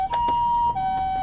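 A toy ambulance gives off a loud, steady electronic siren, a high wailing tone that holds and shifts pitch slightly, with no voices over it.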